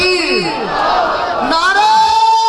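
A large crowd at a religious gathering in Karachi chants the takbir slogan back in unison. The massed voices sound loud and rising, with several swelling calls over about two and a half seconds.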